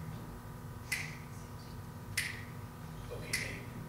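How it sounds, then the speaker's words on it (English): Three sharp finger snaps ring out at an even, unhurried pace about a second apart, crisp and close against a faint steady background hum. "I can stop snapping my fingers"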